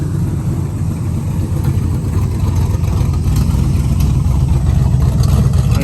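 A 1969 Mustang that sat for 15 years runs loud through rusted-out mufflers full of holes, a close, heavy, rumbling exhaust drone that holds steady and swells slightly as the engine revs.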